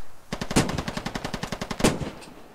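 Automatic weapon fire in the military shooter Squad: a rapid, evenly spaced string of about fifteen loud close shots over two seconds, with a couple of heavier blasts standing out, no talk.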